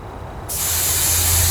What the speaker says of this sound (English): Spraying them enough to stabilize them.